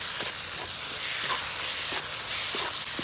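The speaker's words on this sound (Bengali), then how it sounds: "আর মশলাটা কতক্ষণ ভাজবো যতক্ষণ মশলার কাঁচা গন্ধটা না চলে যায় আর যতক্ষণ না তেল ছেড়ে যায়।" A spice paste with tomatoes sizzles and crackles steadily in hot oil, close and constant, with a few soft stirring scrapes and no talk.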